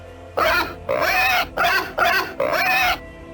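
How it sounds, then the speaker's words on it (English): Five separate grunting snorts from a pig NPC in the Tombi! 2 video game, each about half a second long, arriving at an even pace, loud and close, with brief silences between them. "his grunts are different than the standard pig sounds used while talking to other pig NPCs"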